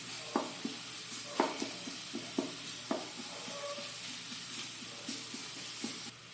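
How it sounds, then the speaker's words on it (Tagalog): Onion and garlic sauté in a pan under a faint, quiet sizzle, punctuated by a loose series of light spatula taps and scrapes. "Tutuin natin ng sibuyas, bawang para lumabas yung aroma."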